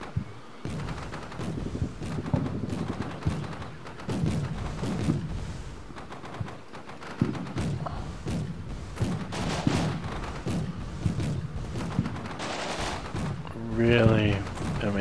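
Gunfire from the military strategy game Combat Mission Shock Force: repeated sharp shots and rattling bursts crack through the whole stretch, some clustered like volleys, over a steady rumble, with a voice talking underneath.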